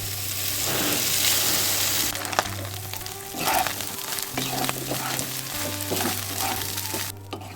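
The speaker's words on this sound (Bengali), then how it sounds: "এবার দিয়ে দিচ্ছি কারি পাতা ফোড়ন। এবার ভাতটা দিয়ে দিচ্ছি।" Cooked rice tipped into a sizzling curry leaf tempering for lemon rice, a moderate frying hiss with scattered scrapes and clatter as it goes into the pan, no voices.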